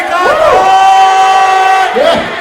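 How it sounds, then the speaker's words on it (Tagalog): Live crowd at a rap song competition roars and cheers loudly, a sustained wall of shouting with a long held tone running through it. "akin pong inihingi ang malakas na sigawan at palakpakan ng bahay"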